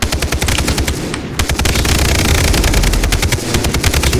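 Rapid automatic gunfire in the shooter game Far Cry 3 rattles in dense, loud bursts, with a brief gap after the first second before the shooting resumes almost continuously.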